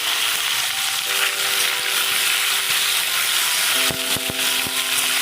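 Taro pieces fry in hot oil with bay leaf and chillies, giving a loud, steady sizzle up close, while a few sharp scraping clicks near the end mark a utensil stirring them in the pan.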